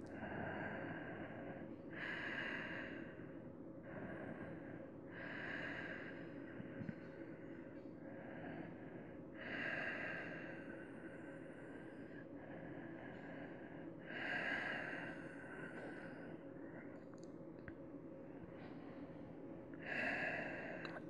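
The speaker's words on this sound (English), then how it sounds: "Breathe." Slow, audible breaths during a seated yoga twist in a cow face pose class draw in and out in a repeating rhythm of roughly eight long, soft cycles, close and unhurried with no talk.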